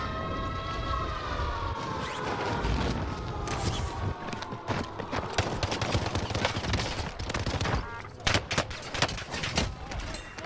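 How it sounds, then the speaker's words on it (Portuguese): Rapid video game shooter gunfire from sniper and machine gun weapons crackles in dense bursts beneath a wailing, siren-like tone that gradually fades, with the shots growing sharper and more scattered near the end. "Tem cara atirando em mim."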